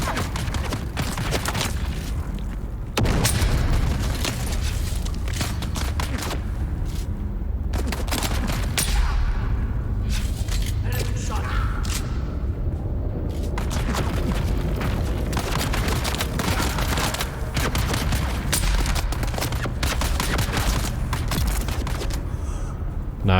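Rapid gunfire in the Dune: Awakening desert combat game, including the Perforator weapon: dense, repeated loud bursts and booming shots that carry on steadily with few pauses.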